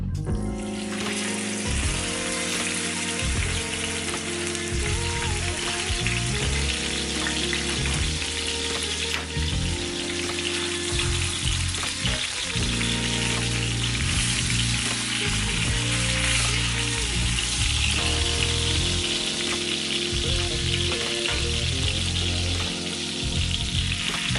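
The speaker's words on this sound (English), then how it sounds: "let's go ahead and just brown these up." Pork chops dusted in flour browning in a hot pan, a loud, steady sizzle and fry holding for the whole stretch with no talking over it.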